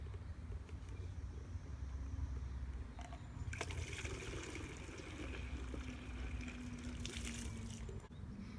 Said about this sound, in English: it is ready to be poured into the spray bottle